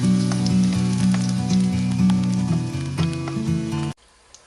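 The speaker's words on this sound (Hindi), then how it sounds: "दूसरी तरफ कोफ्ते भी फ्राई हो रहे हैं।" Kofta meatballs frying in hot oil, a loud dense sizzle with crackles and pops that runs steadily, then cuts off abruptly near the end.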